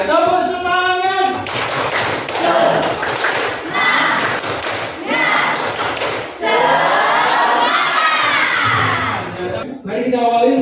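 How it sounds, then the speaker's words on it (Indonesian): Teachers or students in a classroom lesson do a tepuk semangat spirit clap, sharp rhythmic clap bursts in patterned groups alternating with loud voices chanting and talking between the claps. "Tepuk semangat."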